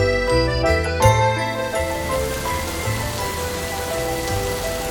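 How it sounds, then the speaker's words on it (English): Rain patters steadily on a surface at night, with scattered drips and a light tinkling over soft musical tones, even and moderate with no voices. "But that night it rained. It rained a lot."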